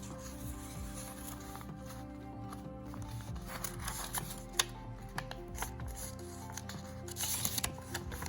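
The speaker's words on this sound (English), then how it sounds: "So I'm just going to do this fold and the other parts." Craft paper being folded and creased for a Sydney Opera House model, soft close rubbing and crisp sliding rustles with a few sharper taps, against a low steady background hum.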